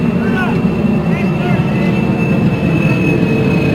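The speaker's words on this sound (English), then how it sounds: "Well, we know our crowd mic work. Picking up the airplane is just fine." An airplane passes over a baseball field during a game, heard as a steady, continuous engine drone with a faint whine, mid-distance and constant, over a soft outdoor crowd background.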